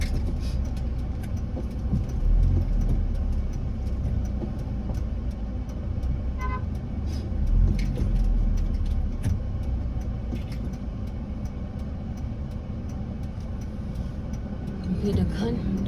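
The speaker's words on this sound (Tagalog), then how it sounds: "What is that? Traffic." Busy road traffic with a constant engine rumble and intermittent car horn toots, heard nearby and steady throughout, while people talk over it.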